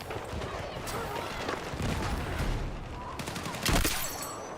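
Gunfire in a shooter video game, with dense overlapping shots in an ongoing firefight and a louder nearby burst near the end, all under continuous game noise and some speech.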